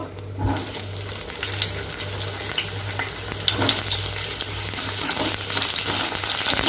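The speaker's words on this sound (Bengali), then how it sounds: "এবার কাঁচকলাগুলো ভেজে নেব।" Raw green bananas fry in hot oil in a pan, a loud continuous sizzle with stirring clatter and a low steady hum underneath.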